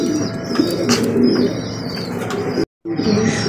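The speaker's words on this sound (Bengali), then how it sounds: "দেখতে পাচ্ছি এখানে আরো এক জোড়া কবুতর" Pigeons at a bird sale and exhibition coo and chirp continuously nearby, with a few sharper calls and a faint wing flutter, before a brief dropout near the end.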